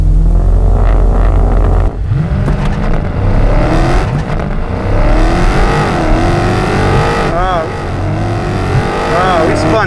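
Drag race cars launching down the strip with wheelspin, loud roaring engines and revving that drops off after the launch, with excited commentary talking over the noise throughout.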